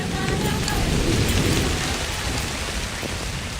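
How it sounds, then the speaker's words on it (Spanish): Heavy rain pours down on a parched savanna after a long drought, a loud, dense, continuous hiss with a deep rumble of thunder swelling and fading beneath it. "descargan por fin la lluvia"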